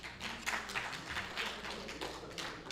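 Several people snap their fingers in approval of a speaker, giving a quick scattering of light, dry clicks at an uneven rhythm over faint room noise.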